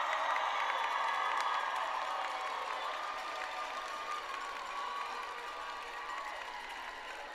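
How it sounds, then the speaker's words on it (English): Nursing school graduates at a convocation in a large performing arts hall give sustained applause with crowd cheering and scattered whoops, a dense, even wash of clapping that slowly eases over several seconds. "I want you to stand and give a round of applause for your families and your loved ones who supported you in this educational journey."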